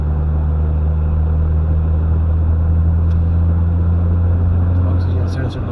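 A Jeep Wrangler engine runs while the vehicle drives, giving a loud, steady low rumble with a constant droning hum that holds throughout.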